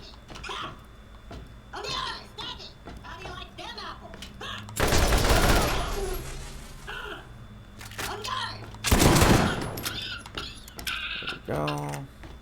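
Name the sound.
enemy gunfire in the video game Borderlands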